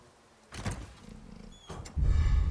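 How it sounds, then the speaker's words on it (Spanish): A dog-like creature growls low and rough in Resident Evil 4 Remake, with two short snarling bursts followed by a louder rumbling growl, heard alone without speech. "Por ahí escuché como un rugir de un perro."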